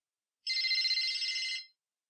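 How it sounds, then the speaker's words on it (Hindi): A mobile phone rings once in a single ringtone burst lasting just over a second, clear and fairly close. Silence comes before and after. "तुम्हारा फोन बज रहा है।"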